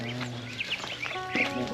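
Ducks quack several times in short, scattered calls near a rural Lao house, heard over a steady background hum with no talk.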